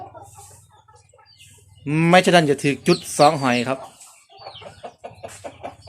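Chickens cluck softly in a coop on a rural farm in northeast Thailand's Isan region at night. A voice speaks loudly over them midway, and the soft clucking resumes after.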